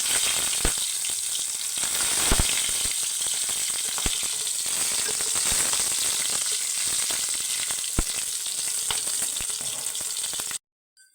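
Potato-stuffed green chillies frying in a pan, a loud, continuous close sizzle with occasional pops and faint stirring clicks that cuts off abruptly at the end.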